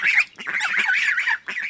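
Five-week-old brown Chinese goslings give a rapid series of close, loud, reedy honks and peeps, with a brief gap before the last call.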